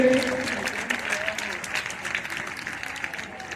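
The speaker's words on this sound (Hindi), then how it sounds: "इनका जोरदार तालियों से स्वागत करें।" Applause from a crowd at a rural school function welcoming a block education officer, starting loudest and gradually thinning, with a voice over a loudspeaker briefly heard at the start.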